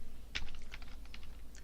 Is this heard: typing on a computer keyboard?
yes